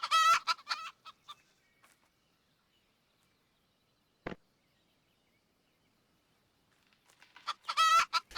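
Video game chickens: short bursts of clucking chatter open and close the recording, with a single brief thud in the quiet middle.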